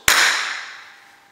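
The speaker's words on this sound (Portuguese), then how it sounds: "Bater palmas uma vez." A single sharp hand clap, close and loud, ringing out in a reverberant room and slowly decaying for about a second in otherwise quiet surroundings.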